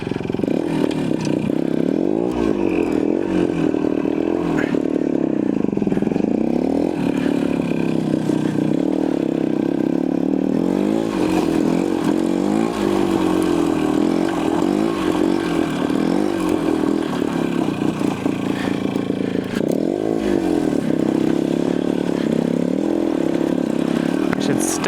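Yamaha TY175 trials motorcycle riding through rutted winter terrain, its small engine buzzing continuously with repeated revving swells and throttle changes, close and steady throughout.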